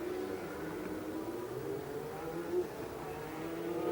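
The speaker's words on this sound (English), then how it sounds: "Now another group of cars going out for qualifying," 1990 Formula 1 cars out on track during qualifying at the San Marino Grand Prix at Imola, a faint, distant, steady engine whine and drone that swells slightly toward the end.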